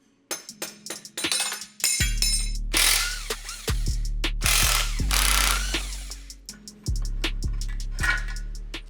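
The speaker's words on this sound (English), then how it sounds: "I'm gonna have to hammer this one off of here." A hammer strikes a crusty kickstarter on an RM250 motorcycle engine several times, with sharp ringing metallic blows that come in uneven bursts, close and loud.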